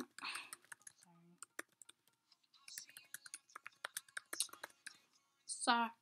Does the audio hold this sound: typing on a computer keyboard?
yes